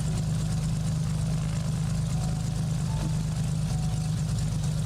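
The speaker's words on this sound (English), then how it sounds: "Engine run up, mixture to best power." A turbocharged Cessna 182 engine runs up in a flight simulator, a steady, loud low droning hum that holds unchanged throughout, with no voices.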